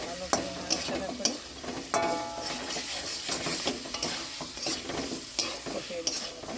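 Potatoes fry in a pan with Kashmiri red chili powder while being stirred, rapid scraping strokes over a continuous sizzle, close and moderately loud, with no voices.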